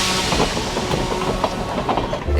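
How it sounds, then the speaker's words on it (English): Steady rolling rumble of a pedal-powered rail bike's wheels on the historic Skunk Train track in Northern California, with faint rhythmic clicks, a continuous close-up rattle without any voices. "The pedal-powered locomotive rides on what's known as the historic Skunk Train track."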